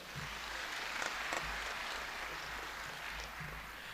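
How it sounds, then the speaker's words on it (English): A crowd applauds at a health sector event, a steady continuous wash of clapping hands at moderate level filling the whole stretch with no voices on top. "please give a round of applause to the very ministry and the World Bank that has organized this important event"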